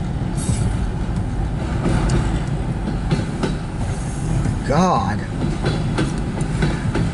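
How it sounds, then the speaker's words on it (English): A long CN freight train of auto racks and box cars rolls past close by at Port Huron, Michigan, with a steady rumble, wheel clatter and a brief squeal of wheels, while a person briefly exclaims over it. "This is a monster train."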